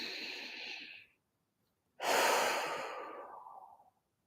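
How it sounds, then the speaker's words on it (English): A deep inhale and exhale during a guided EFT tapping relaxation session, a long breathy rush that swells loudly then slowly fades after a brief pause, close and alone without talk. "Go ahead and take a breath"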